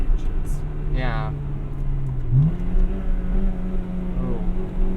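A 1998 Acura Integra Type R with a naturally aspirated, high-revving Honda VTEC engine drones steadily from inside the cabin, its pitch climbing briefly as revs rise, with a short voice sound over it.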